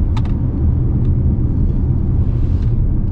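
Inside the cabin of a 2022 Hyundai Tucson on a rough, worn stretch of road, a loud, steady low rumble of tires and road noise carries on throughout, with a few faint clicks and light rattles near the start.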